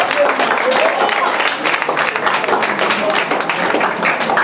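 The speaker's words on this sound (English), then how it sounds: "Clap, continue clapping." An audience applauding: a dense, continuous patter of many hands clapping that fills the whole stretch at a steady level.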